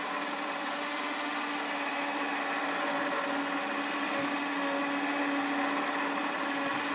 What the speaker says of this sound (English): Trying out the new winch.